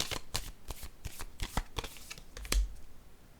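Tarot cards are shuffled and handled in a quiet room, a run of crisp riffling flicks and snaps, with one louder slap near the end, close and alone without speech.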